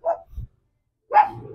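A puppy barks twice, close and fairly loud, with sharp yelping calls separated by a short quiet gap and a low thump between them.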